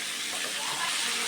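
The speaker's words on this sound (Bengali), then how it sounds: "এখন আমি দিয়ে দিচ্ছি জল" Hot water pours steadily into a cooking pot holding kohlrabi, a close, continuous rushing splash with no break.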